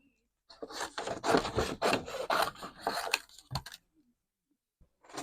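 A paper heart for a shabby chic Valentine card being trimmed: a close, continuous rasping cut through paper lasting about three seconds, then quiet.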